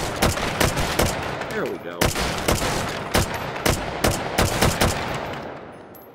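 A QBZ 95 bullpup rifle fires in the VR shooter H3VR, with sharp, loud single shots and quick strings of rounds spread throughout and a brief spoken remark.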